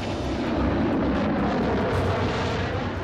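A Russian jet aircraft roars past in full afterburner, a loud, steady broadband rumble that fills the whole clip without letting up.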